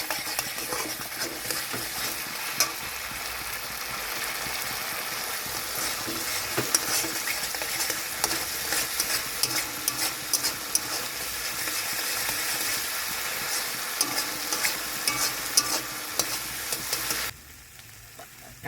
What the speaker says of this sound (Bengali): একে একে পটলগুলো দিয়ে নিচ্ছি।